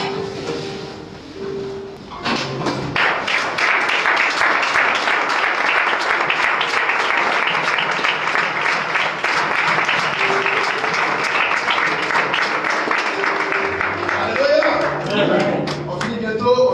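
A church congregation stands and claps continuously, dense sustained applause with cheers and voices mixed in, fading at the end into a voice speaking.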